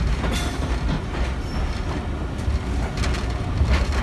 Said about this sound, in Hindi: तो दोस्तों पटरी कैसे चेंज करती है वीडियो, ये भी दिखा रहा हूँ आपको इस वीडियो के अंदर। ये पटरी चेंज हो रही है